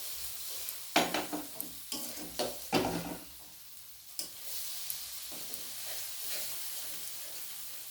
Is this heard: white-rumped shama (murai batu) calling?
no